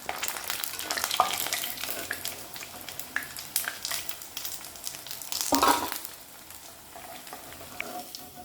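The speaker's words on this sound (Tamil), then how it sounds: "இதே மாதிரி மீதி உள்ள பலாக்காயெல்லாம் ஃப்ரை பண்ணி எடுத்துகிட்டு வந்துக்கிறேன்" Raw baby jackfruit pieces for jackfruit 65 deep-fry in oil with a dense, close bubbling sizzle throughout. A louder burst of crackling comes near the middle, and then the hiss settles slightly softer.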